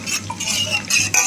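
A spoon stirs ground coriander and cumin mixed with a little water into a paste, close and fairly loud, with soft wet scraping and light clinks against the bowl.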